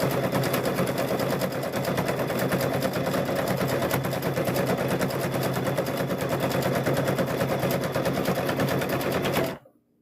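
Serger sewing machine running at speed, a fast loud mechanical rattle that holds steady and close for nearly ten seconds, then stops abruptly.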